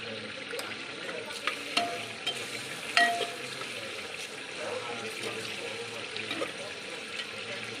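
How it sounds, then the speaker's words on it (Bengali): Spice masala for handi chicken sizzles gently in oil in a pan while being stirred, with soft scraping and a few sharp clinks of the utensil, heard fairly quietly and close. "এবার মশলাটাকে একটু কষাবো, কষাতে কষাতে মশলাটা তেল ছেড়ে দেবে।"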